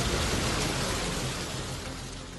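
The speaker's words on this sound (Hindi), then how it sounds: "मूसलाधार बारिश यहाँ पर देखी जा रही है" Heavy torrential monsoon rain in western India pours down as a dense, steady roar of broadband noise, loud and continuous throughout, with no voices over it.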